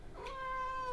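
A single drawn-out cat meow, clear and close, rising at the start then holding a steady tone for about a second in a quiet indoor room.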